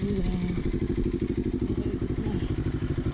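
A CFMOTO NK650 motorcycle engine thrums steadily in a fast, even pulsing beat, loud and close, with a voice briefly heard over it at the start.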